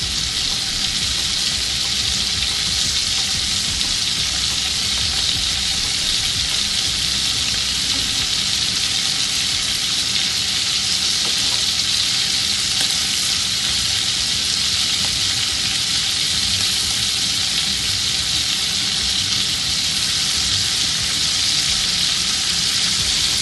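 Scallops sear in brown butter in a hot pan, giving a loud, continuous hiss and crackle that holds steady and close throughout.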